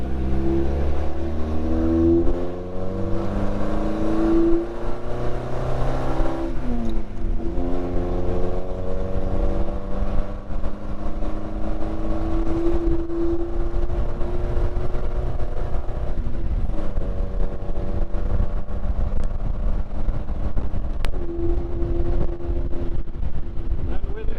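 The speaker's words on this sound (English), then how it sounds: "This is an acceleration. a nice little acceleration that we're going to do here because clear open road." A Triumph TR2 sports car accelerating hard in second gear on an open road, the engine note rising steadily through several long revving sweeps that fall back briefly between them, loud and constant under wind noise and people talking.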